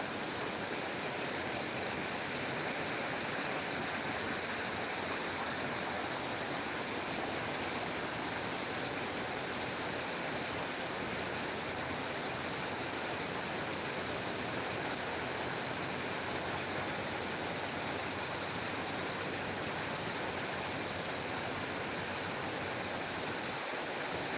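Heavy rain pours over a farm area in Tumakuru, a constant dense roar of falling water that stays loud and even for the whole stretch, with no voices.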